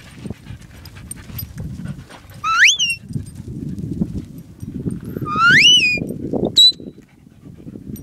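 A sheep herding whistle command to stop, given as two rising-then-falling whistle blasts with a short chirp after, heard over panting and rustling from a working dog outdoors.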